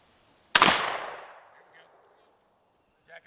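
Shotgun blast fired at a turkey during a youth turkey hunt outdoors, a single loud sharp report with a long rolling echo fading over a second or more, then quiet.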